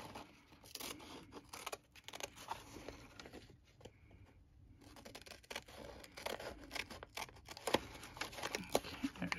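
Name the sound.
scissors cutting freezer paper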